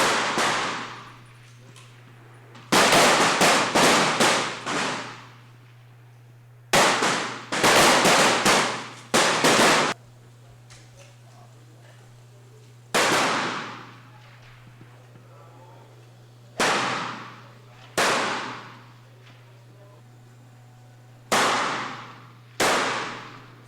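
Pistol shots at a rapid-fire shooting competition, loud sharp reports fired in quick bursts of about five with pauses between strings, some ringing echo after each burst, over a steady low hum.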